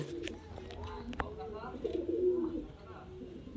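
Murshidabadi Giribaz pigeons give soft, low cooing close by while someone talks over them during a delivery of seven birds.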